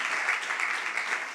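Brief burst of audience applause at an authors' event, a dense, even patter of clapping hands with no voices.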